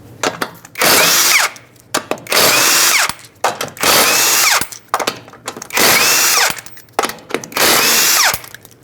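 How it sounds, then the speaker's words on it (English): Impact gun spinning off the five lug nuts of a 2006–2011 Honda Civic front wheel with a 19mm socket, five loud buzzing bursts of about a second each, split by short pauses and light clatter. "take off all 5 of your lug nuts with a 19mm socket"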